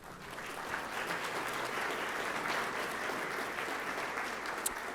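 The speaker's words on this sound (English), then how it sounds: "Let's give them a round of applause." A crowd applauds steadily, dense clapping filling the room at moderate distance for several seconds without any voices.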